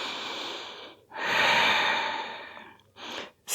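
Deep yoga breaths during a stretch, with a long drawn inhale or exhale near and clear, then two shorter breaths close together, airy and soft with no talking.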